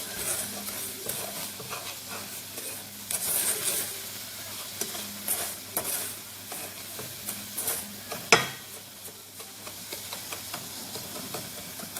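Sugar caramelizing in a pot for a Ghanaian caramelized corn drink, stirred by hand: soft steady scraping and faint sizzle, with one sharper knock near the end and no voices.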